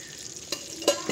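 Butter and a little oil heat in a pan for pav bhaji, giving a soft crackling sizzle with a couple of brief scrapes or taps, close and fairly quiet.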